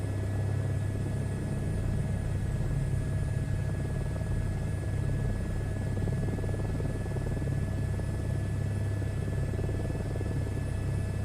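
A helicopter in a VR flight simulator gives a continuous loud, steady rotor and engine drone with a low rumble, unbroken and alone for the whole stretch.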